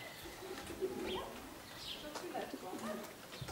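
A racing pigeon coos softly several times nearby as birds land at the loft, its low rolling calls repeating while a voice talks quietly in the background.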